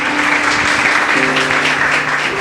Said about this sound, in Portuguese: Louve ao Senhor com as suas palmas.